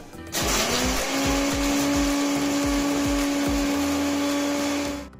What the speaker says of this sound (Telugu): ఇందాక వేయించి పెట్టుకున్న పప్పుల్ని మిక్సీ పట్టుకుందాం